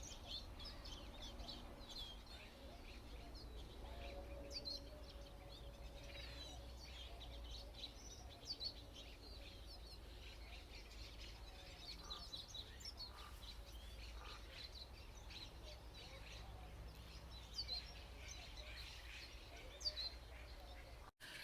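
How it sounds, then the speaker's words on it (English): Birds calling around Silverwood Lake on a hike, with crows or ravens and songbirds giving faint, scattered chirps and calls over a low, steady outdoor hum. "Did you hear the crows or ravens? Did you hear the songbirds?"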